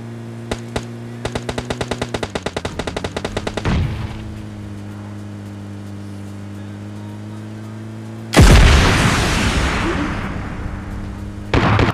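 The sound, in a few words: gunfire in the video game PUBG Lite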